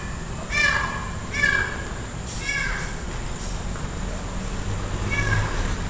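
At ten at night, a cat gives several drawn-out meows, spaced apart and fairly distant, over a steady low outdoor hum, with a faint voice in the background.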